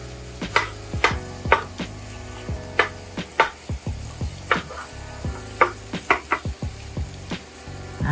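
Repeated sharp metal chopping strikes on meat on a hot griddle for a bodega chopped cheese, irregular but steady, with a faint sizzle underneath and no talking.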